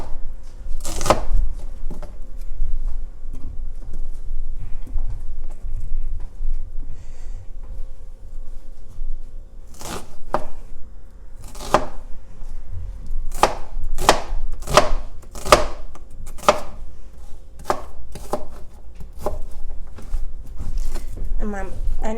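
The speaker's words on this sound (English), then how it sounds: "here I have my onions. You can slice it up." A knife chops onions on a cutting board for an attieke dish, starting with a few sparse strikes and then a run of about a dozen crisp, evenly spaced chops close by over a low background hum.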